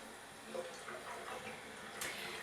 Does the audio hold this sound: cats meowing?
no